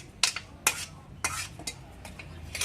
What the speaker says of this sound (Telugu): వంకాయలు వేసుకున్నామండి.